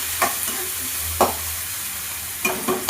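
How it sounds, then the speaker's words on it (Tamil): Chopped tomatoes fry in a pan for chana masala, with a steady sizzle under four or so sharp scraping stirs of a utensil against the pan, close up. "கட் பண்ண தக்காளியை சேர்த்து நல்லா கலந்து விட்டுக்கலாம்."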